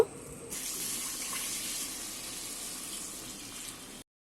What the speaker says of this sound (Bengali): এবারে আমি এখানে জল অ্যাড করব